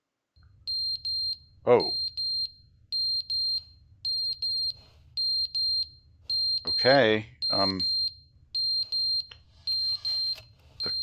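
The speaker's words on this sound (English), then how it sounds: "There's a fire alarm going off." A fire alarm in the video game The Stanley Parable sounds in repeating triple-beep bursts, a piercing electronic tone pulsing steadily throughout, while a person briefly speaks a couple of times over it.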